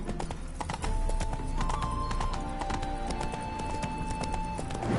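In a video game, the horse Roach clip-clops along in a steady rhythm of hoofbeats with a whinny, close and clear over a soft tonal music bed, with no voices.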